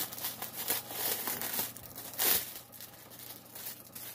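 Plastic packaging crinkles and rustles in close, irregular bursts, with one louder crackling scrunch midway through the handling.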